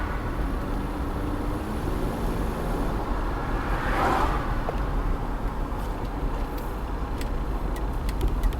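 A Pontiac with a faulty speedometer cruises on the road, heard from inside as a steady low rumble of engine and tire noise with a smooth, continuous whoosh and a brief swell of passing sound midway.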